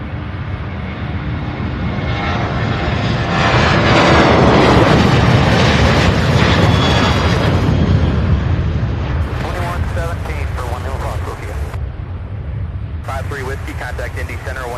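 A Southwest jet airliner takes off from Louisville International, its engines swelling to a heavy rumbling roar that gradually eases, under intermittent radio chatter.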